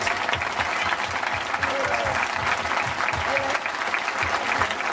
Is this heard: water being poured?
no